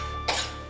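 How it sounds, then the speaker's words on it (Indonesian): An elderly grandmother lets out a single short, fairly faint cough against a quiet room hum. "ini batuk-batuk terus kayak begitu"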